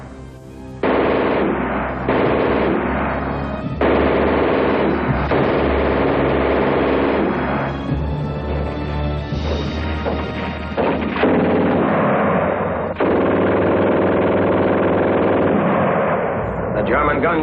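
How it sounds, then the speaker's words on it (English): A German machine gun fires long, loud, rapid bursts with brief pauses between them, continuous near automatic gunfire filling the whole stretch. "The German gun shoots fast."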